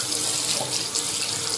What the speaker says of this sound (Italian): sciacquiamo con acqua fredda